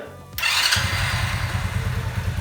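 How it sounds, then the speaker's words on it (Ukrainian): A Musstang Fit 125 motorcycle with its drive chain removed, started up close: a brief starter whir, then the engine catches and settles into a steady, loud, low idle. "Тепер пробуємо завести, перевіряємо коробку передач"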